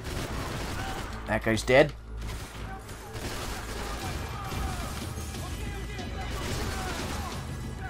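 Gunfire in Max Payne 3 during an office shootout: a sharp burst of close shots early, then scattered shots and clatter under game noise, with someone speaking briefly.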